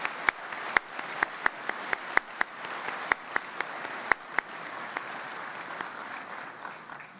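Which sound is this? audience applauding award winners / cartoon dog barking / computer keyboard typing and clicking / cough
audience applauding award winners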